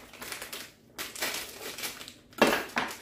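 A knife slitting open a paper bag of chicken fry batter mix, heard as close, dry crinkling and tearing bursts with two sharper crunches near the end, no talking.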